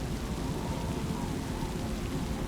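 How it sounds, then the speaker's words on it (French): Heavy rain pours steadily onto a tent shelter in a thunderstorm, a dense, loud, unbroken hiss and patter with low rumbling underneath. "la pluie s'abat sur l'abri"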